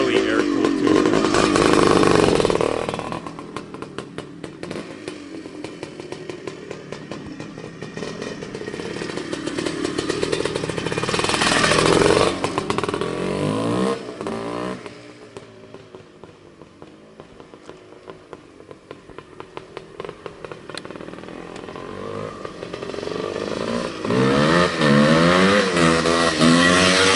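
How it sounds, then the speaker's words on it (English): Buzzy, ringing exhaust of a 1974 CZ250 air-cooled piston-port two-stroke motocross bike, idling and blipping in repeated revs that rise and fall, loud and close, running alone. "Just the sounds you want to be hearing from an early air-cooled two-stroke."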